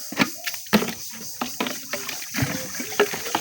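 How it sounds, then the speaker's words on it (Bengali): Water sloshes and splashes in irregular bursts while something is washed by hand on a farm, close up and moderately loud, with gurgling pours and brief quiet gaps between them. "এখন এই যে পানি দিয়ে ধুইতেছি"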